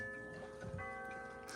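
A Bulova clock ticks steadily in a quiet room, faint and a little distant, with no talking over it.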